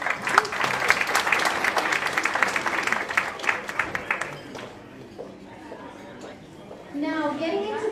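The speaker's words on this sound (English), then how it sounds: "Let's give it another round of applause." A burst of applause from a crowd at an evening networking event for a few seconds, fading out, then a person begins speaking.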